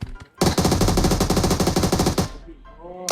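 Rapid automatic gunfire from PUBG Mobile, a dense burst of closely spaced shots lasting about two seconds before cutting off, followed by a brief quieter tail.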